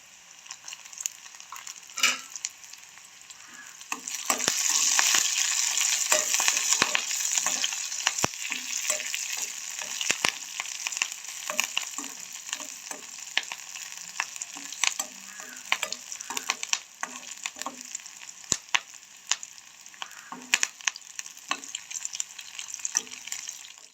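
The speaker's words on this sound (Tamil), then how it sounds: "பார்த்தீங்கன்னு சொன்னால் வெங்காயம் வதங்கி கொண்டு வருது. ஓகே, இப்போ வந்து கருவேப்பிலையும் போடுவோம்." Onions and curry leaves fry in a pan for a soya meat curry, a dense close sizzle that swells after a few seconds and holds, dotted with frequent sharp stirring clicks, with no talk.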